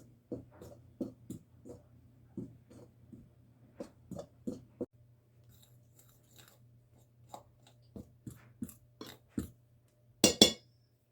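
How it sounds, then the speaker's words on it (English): Butter is worked into flour in a mixing bowl for sweet blueberry biscuits, giving a run of irregular close taps, clinks and soft scrapes of a utensil against the bowl over a steady low hum, ending in a sharper, louder rattle. "I'm going to mix your butter right in your flour."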